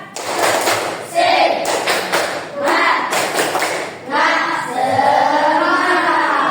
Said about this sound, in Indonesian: Kita ulangi ya, tepuk semangat